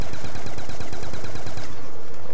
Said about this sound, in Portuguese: Vamos dar tiro.